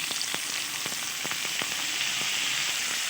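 Soaked masoor dal hits hot oil with cumin seeds, ginger and tomato, giving a steady close sizzle and hiss punctuated by small pops and crackles.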